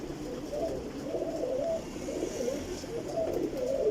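A young Teddy pigeon being held in the hand gives soft, low, repeated coos close up over a faint background hiss.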